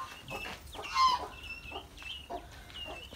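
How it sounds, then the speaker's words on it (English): Hen clucking in a caged farm enclosure at a resort, with chicks, goats and roosters nearby, a few short clucks and cackles repeating close by over faint background noise, no talk. "And here there is a hen. And see, there's a small chick too."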